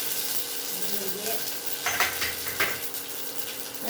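Mustard seeds and cumin sizzle in hot oil, a soft continuous hiss broken by a few sharp crackling pops near the middle.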